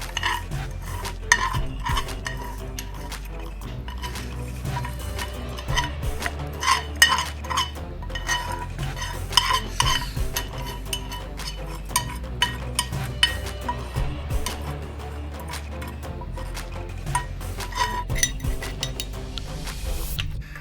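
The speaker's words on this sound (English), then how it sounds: "we will mix the tempered spices into the idli batter, and so it will be evenly mixed" Tempered spices being stirred into idli batter in a metal vessel, a continuous close clatter of spoon against pot with frequent clinks and scrapes throughout.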